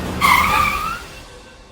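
A car brakes hard and skids to a stop, its tyres giving one loud, close squeal that rises and fades over about a second, leaving quiet behind it.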